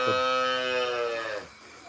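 High-breed dairy cows (HF, Jersey and Sahiwal) at a dairy farm, with one giving a single long, loud, deep moo nearby that lasts about a second and a half before fading out.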